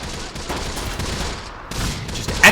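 Sustained volleys of gunfire from Close Combat, a Second World War North Africa campaign battle, rattling continuously and loud with a heavier burst at the end.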